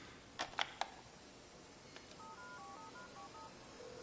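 A telephone call being placed in a French action film, with a few short dial tones followed by a rapid string of faint electronic dialing beeps in a quiet room.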